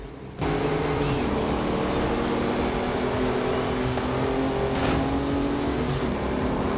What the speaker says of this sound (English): Watch as I try to navigate high-speed turns across multi-surfaces in Forza Horizon 5 with understeer and loss of traction